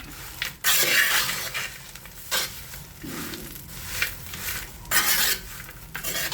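Eggplant moju with peanuts stirred in a pot, a utensil scraping and clinking against the sides in several loud, uneven strokes with short pauses between them, close by and with no one talking.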